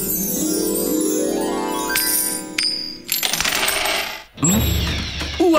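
Cartoon coins clatter and jingle in a dense, bright shower that scatters in several bursts, loud and unbroken throughout, with no voices.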